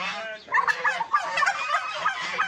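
Turkeys gobble loudly and close by on a village farm, rapid warbling calls overlapping in a dense chorus.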